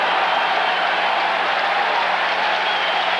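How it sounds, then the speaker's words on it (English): Stadium crowd applauding at a 1994 college football game against Notre Dame after a winning field goal, a dense, steady roar of clapping that fills the whole stretch without letting up. "Pardon me while I stand and applaud with the rest of this crowd"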